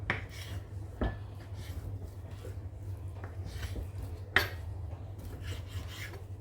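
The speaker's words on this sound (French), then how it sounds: "nous allons couper le veau" A kitchen knife slicing through roughly 500 grams of raw veal on a board, with soft rasping strokes and a few sharp knocks of the blade against the surface, quiet and close with steady background hum.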